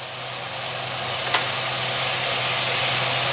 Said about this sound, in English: we're going to go ahead and flip that meat now